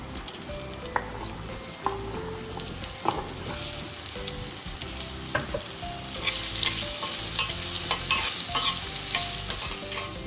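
Steady sizzling of raw mango pieces frying in a hot oil tempering, with a spoon scraping and stirring the pan at intervals throughout.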